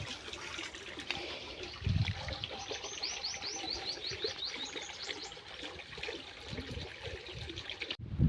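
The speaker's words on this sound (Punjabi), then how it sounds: "ਆ ਲੋ ਬਈ ਪਾਣੀ ਚੱਲ ਪਿਆ" Irrigation water flows into a field channel beside a maize plot, trickling and gurgling steadily, with birds chirping in the background.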